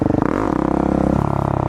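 A supermoto motorcycle engine gets a short blip of revs with the clutch pulled in before a wheelie, rising briefly then settling into a loud, close, steady idle.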